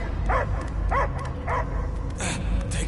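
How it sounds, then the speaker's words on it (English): Dog barking inside the Guardians of the Galaxy video game, three distinct yipping barks roughly half a second apart followed by a higher yelp, heard close over a constant low rumbling game soundtrack. "I hear only barking"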